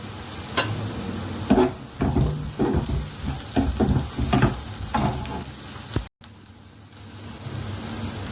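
Green chilli pieces and curry leaves fry in hot oil, a steady loud sizzle with stirring scrapes and a brief cut near the end.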